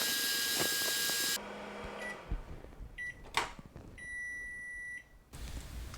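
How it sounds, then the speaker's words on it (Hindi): A microwave oven hums briefly while cooking a mug brownie, followed by quiet clicks and a series of electronic beeps, then the hum resumes. "अब मैं इसको 30 सेकंड और माइक्रोवेव करूँगी।"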